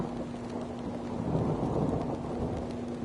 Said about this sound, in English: Rain pounding on the cracked windshield of my hover.